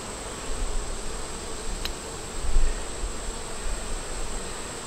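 Honey bees buzzing around a small five-frame nucleus hive in hot weather, a faint, steady insect hum with soft low rumbles beneath and no talking.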